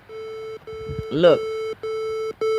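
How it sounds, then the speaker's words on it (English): An alarm clock beeps in a steady repeating pattern of loud electronic tones, with a brief spoken word breaking in partway through. "That's my alarm again, y'all."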